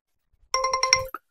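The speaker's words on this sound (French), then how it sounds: "dès qu'elle me détecte, tout simplement, eh bien, la caméra m'envoie une notification." Phone notification alert from a Reolink Argus 4 Pro security camera: a short, bright ringtone of quick rapid chimes lasting about half a second, then a single brief blip, loud and close with silence around it.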